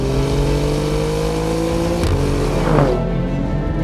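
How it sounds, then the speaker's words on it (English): Alfa Romeo Giulia Quadrifoglio engine revving loudly and steadily up close, with a sustained roar that shifts pitch partway through as the revs change. "this is the Giulia Quadrifoglio"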